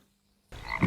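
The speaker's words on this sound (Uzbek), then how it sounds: "Men bu joyda qurbaqani ovozini qo'shdim." Frog croaking sound effect, a brief sudden croak that bursts in after half a second of silence and grows louder over its short duration, close and alone.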